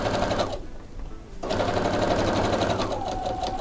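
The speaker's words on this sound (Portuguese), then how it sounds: "Vou passar a costura reta, retrocesso no começo e no final." Sewing machine stitching a straight seam on a fabric zip pouch, with a rapid close mechanical whir that pauses briefly and then resumes for a longer run.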